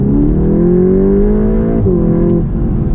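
A VW Golf GTI Clubsport 45 Edition engine revs hard under kickdown acceleration, pitch climbing steadily, then a brief dip as a gear shifts before pulling again, loud and close.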